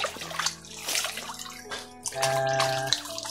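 Steady rushing, splashing river water with a bright, bubbling texture, close by and continuous without any voices.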